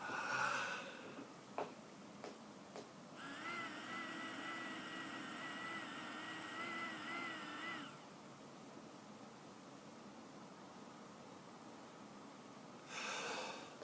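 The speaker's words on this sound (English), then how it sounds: "Okay, that was a full breath." A deep, full exhalation blown through a Wright spirometer, a steady airy rush with a whirring tone lasting several seconds at close range, framed by a few sharp breath sounds before and a brief burst at the end.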